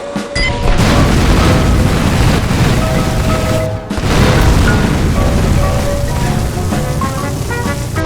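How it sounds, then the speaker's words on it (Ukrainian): Explosions from a helicopter bombing mission in GTA Vice City roar continuously, a dense rumbling blast texture with a brief dip partway through before the booming picks up again, loud and without talk. "В цій місії потрібно підірвати велику будівлю одним гвинтокрилом"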